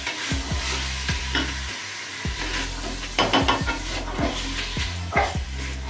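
Crushed spices fry for a beef stew with a continuous close sizzle, while a utensil scrapes the pan in evenly spaced strokes. Nobody speaks.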